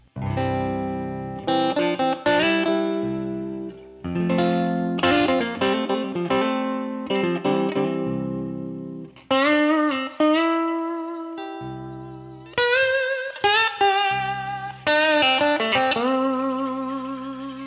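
A bright, clean electric guitar with its volume knob turned down plays ringing chords and picked notes in several phrases separated by short pauses.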